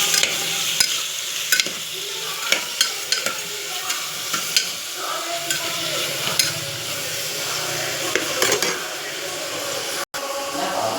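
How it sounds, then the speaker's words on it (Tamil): Tomatoes and onions sauté in a pan for tomato sambar, with a steady sizzle broken by repeated scraping and stirring strokes of a spatula, close and moderately loud. "தக்காளியும் நல்லா வதக்கி விட்டுக்கலாம்"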